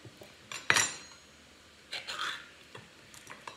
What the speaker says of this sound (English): I need a knife to open the cans with.